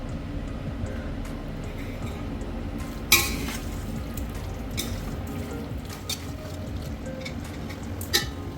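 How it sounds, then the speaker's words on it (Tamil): Chicken for Hyderabadi chicken dum biryani cooks over full heat, giving a steady low sizzle with occasional stirring scrapes and a few sharp clinks of a utensil against the pot. "நம்ம அந்த சிக்கனை போட்டு ஃபுல் ஹீட்டில் வச்சு நம்ம குக் பண்ண போகிறோம்"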